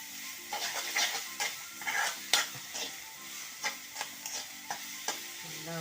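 A utensil stirs a taro stem stir-fry with spice paste in a hot pan, making repeated scraping strokes over a soft sizzle, close and moderately loud, with no talking.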